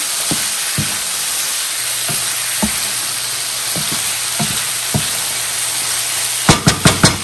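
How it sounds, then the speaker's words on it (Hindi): Goat liver frying with spices in a pan gives a constant loud sizzle, with sparse spoon taps during stirring and a quick run of sharper knocks near the end. "और अब हम इसको जो है थोड़ा सा भूनेंगे।"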